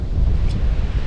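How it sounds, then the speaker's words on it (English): Water of a leet pouring over a bridge as a small waterfall beside a river in open countryside, a loud steady rushing roar dominated by low rumble and wind buffeting on the microphone. "that waterfall, by the way, is called a leet. It's running over that bridge down around the corner, and Simon tells me"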